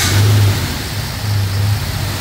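A rebuilt Mercedes V12 engine runs again with a deep, close rumble. It opens with a strong rev, settles into a lower idle, then surges briefly once more, with no talking over it.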